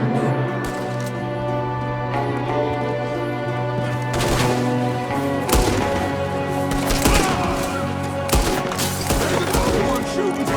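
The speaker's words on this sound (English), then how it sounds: "there's another one shooting from the window" Gunfire in Red Dead Redemption 2 breaks out in scattered bursts of sharp cracks over a constant in-game music bed and ambient noise, with several rapid shots clustering near the middle and later.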